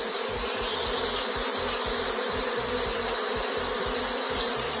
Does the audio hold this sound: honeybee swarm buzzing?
yes